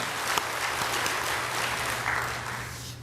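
Church congregation clapping together after a call to give glory to God: dense, steady applause from many hands filling the room, sustained throughout at even loudness with no voice over it.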